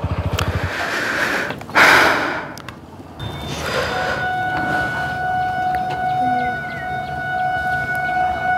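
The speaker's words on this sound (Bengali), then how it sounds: "ট্রেনের হর্নের আওয়াজ পাওয়া গেল এখন।" A train horn sounds at a railway crossing where the gate is down, long steady tones held over several seconds after a short broad burst, fairly loud against road and vehicle background.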